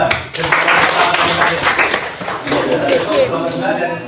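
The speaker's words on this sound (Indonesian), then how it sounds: "kasih aplaus untuk kelompok 2" A classroom group gives applause for group 2 during a teaching session, with brisk, steady clapping from many hands and voices talking over it.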